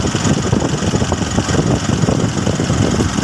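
A vehicle engine idles smoothly and steadily close by after being serviced, a loud continuous low rumble with a fine rapid pulse and no talking over it.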